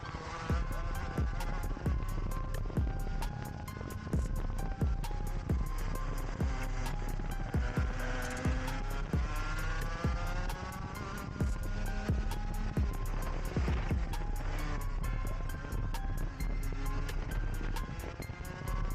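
A race car drives a fast, all-out lap, its engine loud and close throughout. The revs rise and fall in repeated sweeps with sharp shifts between gears, and no voice is heard.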